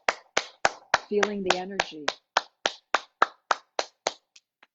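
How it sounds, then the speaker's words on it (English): Hands clap in steady, even rhythm during a guided movement practice, about a dozen sharp, close claps, with a voice speaking over the middle stretch and the last claps growing softer. "Clapping the hands,"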